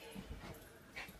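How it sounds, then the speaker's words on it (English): A pet dog makes faint whimpers and small yips indoors during Christmas ornament decorating, a few soft, brief sounds heard at a distance with no talking. "And my dog is going insane. Crazy dog."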